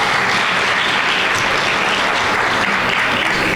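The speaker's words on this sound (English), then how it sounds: "Round of applause for our Master of Ceremonies." Audience at an evening gala gives sustained, dense applause for the master of ceremonies as he comes up, a steady wash of clapping throughout with no voices over it.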